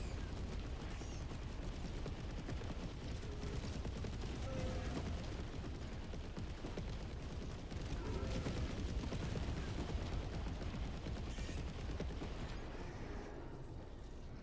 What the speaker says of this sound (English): Firing orbital barrage. Clear the area.